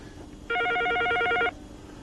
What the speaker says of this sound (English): This is my hideout, and the phone still goes down here.